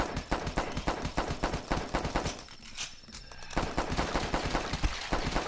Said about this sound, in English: Yeah, you start out with a handgun.